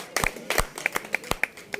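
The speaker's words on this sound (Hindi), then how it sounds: "एक बार तालियां बजा दें, मेरी हौसला अफजाई कर दें।" Clapping from a small audience at a book launch for a poetry collection: about a dozen sharp, separate claps in an uneven rhythm, close and fairly loud, with no talking.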